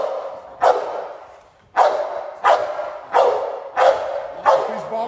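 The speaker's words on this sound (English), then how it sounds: "Let the bark come in." A Cane Corso barks in loud, close, repeated bursts, five or six heavy woofs spaced about a second apart, with a brief lull before the later run.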